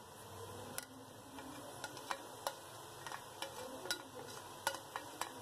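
Finely chopped capsicum and onion stirred in a pan, quiet faint sizzle under a series of sharp spatula clicks and taps against the pan.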